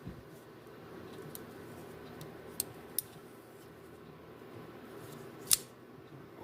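Milwaukee folding work knife with a smooth action, its blade snapping open and shut in a few crisp, sharp clicks at close range over a quiet background.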